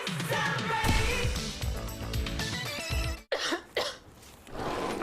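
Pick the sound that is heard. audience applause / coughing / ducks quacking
coughing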